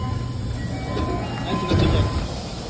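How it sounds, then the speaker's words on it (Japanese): A Nagoya subway train arriving at Sakae Station rumbles and rattles nearby, its low mechanical noise swelling slightly as it moves, with a faint tonal whine above. "列車は佐賀駅に到着しました。"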